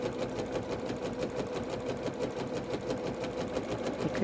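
A Janome sewing machine stitches a rolled hem on viscose with a hemmer foot, giving a fast, even mechanical whir with a steady rapid needle rhythm, close and continuous.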